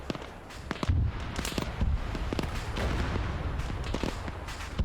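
Scattered gunfire and distant explosive thuds in Arma 3 during a firefight, with repeated sharp shots at irregular intervals over a steady rumbling battlefield background.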